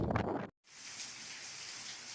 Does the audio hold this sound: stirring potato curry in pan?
no